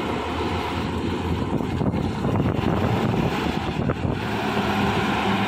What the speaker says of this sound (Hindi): RPM कम हुआ है गाड़ी का, गियर बदलने की कोशिश।